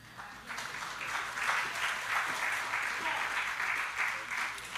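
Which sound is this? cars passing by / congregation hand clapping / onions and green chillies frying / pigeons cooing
congregation hand clapping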